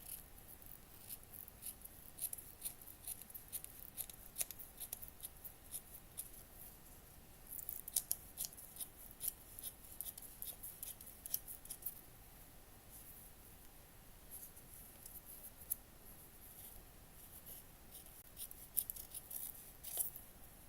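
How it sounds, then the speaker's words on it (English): Scissors snipping a piece out of fabric for a miniature cat cafe room box: a steady series of crisp, close, quiet cuts repeating throughout over faint background hiss, with no talking. "So I'm just gonna place it on my fabric and then cut it out."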